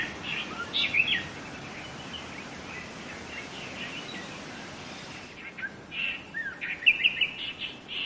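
Fruit doves on Tahiti in Polynesia calling in short bursts of chirping notes within a continuous natural hiss, with a cluster of calls near the start and several more toward the end.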